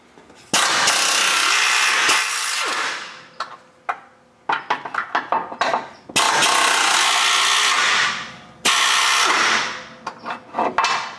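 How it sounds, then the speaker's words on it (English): Loud bursts of power-tool whirring, likely an impact or ratchet with a 13 mm socket, spin transmission crossmember bolts loose, with short rapid clicks and taps between long runs. "we need to grab a 13 millimeter socket to remove these bolts here"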